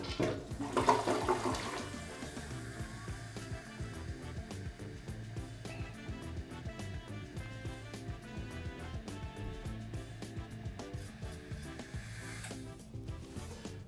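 A household toilet, its tank adjusted to sit about half an inch below the fill line, flushes with a steady rushing swirl of water that runs close and continuously, tapering slightly toward the end.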